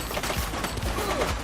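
Dense gunfire fills a chaotic shootout in the police video game The Precinct, with bursts of shots piling into a continuous loud fusillade throughout.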